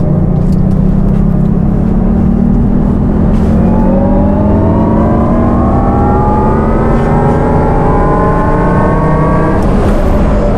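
Jaguar I-PACE electric car in Dynamic mode accelerates hard along a race track, its electric motor rising in a steady, climbing whine with layered tones that sweep upward, loud and close, with no voices heard.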